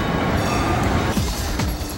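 A tram rumbles past close by in Amsterdam with broadband rolling noise and faint wheel squeal along the rails, no voices.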